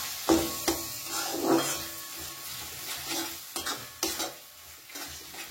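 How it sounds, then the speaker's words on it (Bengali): Onion and poppy-seed paste for pyaaz posto is stirred in a sizzling pan, a spatula scraping and knocking against the metal in irregular strokes over steady frying hiss. "ভালো করে মিশিয়ে নেব।"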